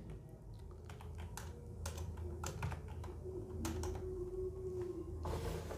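Rapid clicking keystrokes on a computer keyboard while data is entered into a spreadsheet, close and continuous in uneven bursts over a low room hum, with no talking.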